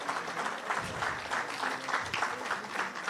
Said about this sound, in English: Let's clap Hands together as they make their way to their seats.